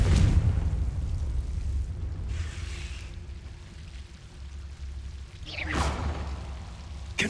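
A Confringo fire-blast spell in Hogwarts Legacy rushes out with a roaring whoosh over a low rumble, then a sharp bright burst hits near the end, loud and close.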